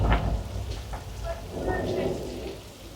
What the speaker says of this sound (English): Water shoots up into the air, so it falls back down naturally like real rain.